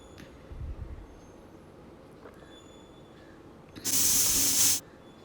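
A pressure cooker holding chicken biryani lets out a single sharp, loud hiss of steam that lasts about a second against a quiet, low background, with a faint rumble just before.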